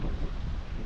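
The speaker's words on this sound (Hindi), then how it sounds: "इतनी तेज़ हवा चल रही है यहाँ पे" Strong gusts buffet the microphone at a mostly frozen waterfall near Mana village in the Himalayas, making a dense, steady, low rumble that covers everything for the whole brief moment.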